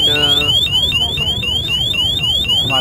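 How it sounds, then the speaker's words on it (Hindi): An ABUS bike disc lock's motion-sensor alarm shrills close and loud, a rapidly repeating rising electronic whoop that cycles about eight times without pause. "अगर आपको कोई बाइक छेड़ता भी है कितनी सी मूवमेंट से भी, ये अलार्म क्रिएट करेगा."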